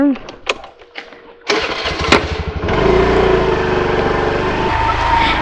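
A freshly washed scooter's engine cranks and catches, then settles into a steady, close idle, with a few knocks and a brief voice before it starts.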